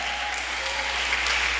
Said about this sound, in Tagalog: Sana hindi lang yan ngayon ang inyong palakpak.